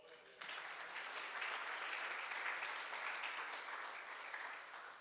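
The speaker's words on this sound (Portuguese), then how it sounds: "aplauda o Senhor" A church congregation breaks into applause, with a sustained wash of clapping that starts abruptly, holds steady and then slowly tapers off.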